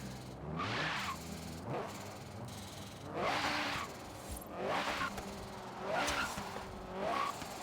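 A 2-liter inline-4 car in the racing game Forza Horizon 3 revs in repeated surges, each ending in a fluttering turbo chatter. Engine tone rises and falls in about four cycles at a moderate level.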